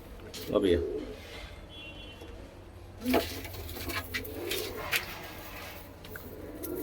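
Pigeons, Punjabi Malwai birds offered for sale, give a few soft low coos and scattered chirps nearby, with a voice talking across the short stretch.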